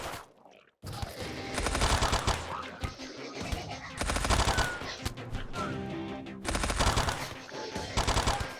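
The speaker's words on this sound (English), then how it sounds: "Well, at least they're exploding inside now instead of outside" Explosions and bursts of gunfire from the colony game Rimworld, loud repeated volleys separated by short lulls, with heavy booms and rapid shots stacking up over several seconds.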